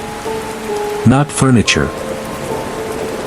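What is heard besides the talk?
rain falling with thunder, sound effect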